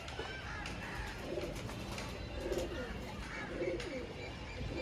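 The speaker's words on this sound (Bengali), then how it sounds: "এটি হলো মাদি পায়রাটা" A pair of Chiniya pigeons coo softly in a few low, rolling calls over a steady background hiss from a pigeon-keeping spot.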